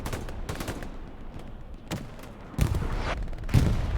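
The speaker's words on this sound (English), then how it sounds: "I'm missing a bit of artillery. I mean, it's going down." Artillery fire in the World War II video game Hell Let Loose: a steady spread of distant gunfire that builds into two heavy, booming blasts near the end, with no voices over it.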